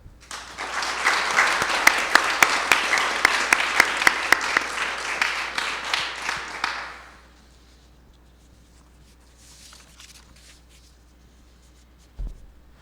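An auditorium audience claps to welcome two speakers at a university talk, with loud sustained applause and a few sharp individual claps for about seven seconds before it fades to quiet room noise and a faint rustle.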